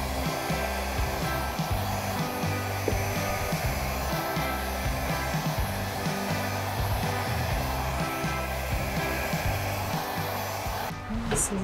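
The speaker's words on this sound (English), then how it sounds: "let's blow this out" A hair dryer blows across a wet acrylic paint pour, making a steady, close airy roar throughout with a faint rhythmic flutter underneath and no speech.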